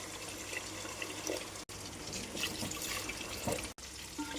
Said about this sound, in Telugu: మనం వాటర్ అనేది పోసుకుందాం.